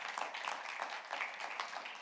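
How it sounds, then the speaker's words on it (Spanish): Church congregation giving loud, steady applause during a Spanish-language service, a dense continuous patter of many hands clapping with no pauses for its whole short length. "Le da ese aplauso fuerte"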